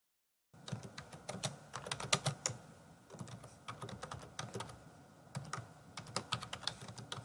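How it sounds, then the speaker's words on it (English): Rapid keyboard typing in close, irregular bursts of clicks with brief pauses, no voices. "So I'm going to start typing this in."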